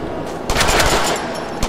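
Rapid gunfire rattles in the Deadpool video game, a dense burst of shots lasting about a second, loud and close, with a brief extra crack at the end and no talking over it.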